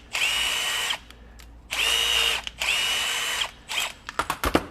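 A power drill spins a thread cleaner over a rusty bolt in three steady whirring bursts of about a second each, then several short stuttering blips as it stops and starts.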